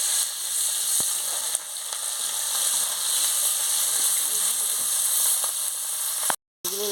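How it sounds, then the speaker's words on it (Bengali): Rohu and bata fish sizzle and crackle steadily in hot oil, a dense close frying hiss that runs almost unbroken, with a few faint utensil clicks and a brief dropout near the end. "তেল গরম হয়ে গেছে, আমি মাছটা ছেড়ে দিচ্ছি।"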